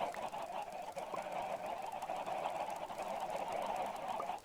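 Chickens in the Minecraft video game give off continuous clucking and squawky fowl calls, dense and fairly loud with no talking.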